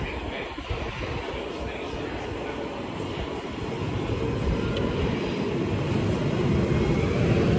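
A train pulling into a station, a heavy low rumble that swells louder and nearer over several seconds, with a broad roar of wheels and engine and background crowd noise.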